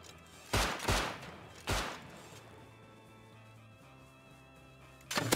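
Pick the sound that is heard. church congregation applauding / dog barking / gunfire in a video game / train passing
gunfire in a video game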